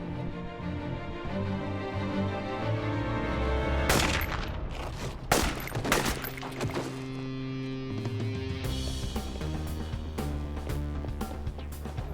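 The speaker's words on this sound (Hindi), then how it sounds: "बस गोली चलाओ" A handful of sharp, loud gunshots crack out over a sustained dramatic music score, bunched in the middle before the music continues alone.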